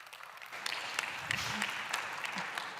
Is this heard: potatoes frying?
no